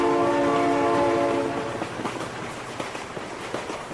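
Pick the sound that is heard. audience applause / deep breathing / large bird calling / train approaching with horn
train approaching with horn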